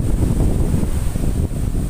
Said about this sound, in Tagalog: Napakalakas yung hangin at saka alon.